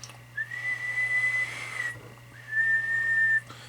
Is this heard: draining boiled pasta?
no